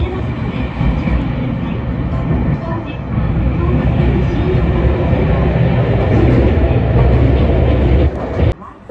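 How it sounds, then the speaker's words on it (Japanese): An express train departs Shin-Yokohama on the Tokyu Shin-Yokohama Line, with a loud, steady rumble of wheels and motors heard from inside the car throughout, easing slightly near the end. "急行浦和美園行きは新横浜を発車です。"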